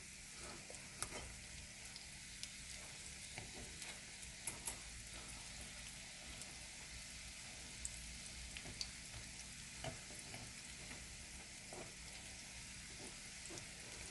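Briouats and cheese-stuffed cigars frying in hot oil give a steady, even sizzle with small crackles and pops, close and continuous, no voices.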